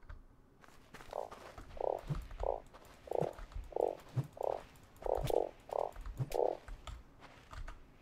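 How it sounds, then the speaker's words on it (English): Frog croaking in the desert survival crafting game Starsand: about a dozen short, evenly spaced croaks in a steady rhythm, fairly close and clear over a faint background hum, with no talking. "You just walk around and hope that you can hear a frog."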